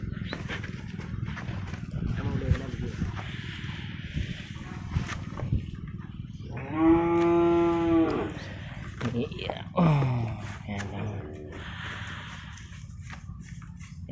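A breeding cow moos during artificial insemination on a farm, with one long, loud, drawn-out call and a shorter falling moo shortly after, over steady background noise while people talk nearby.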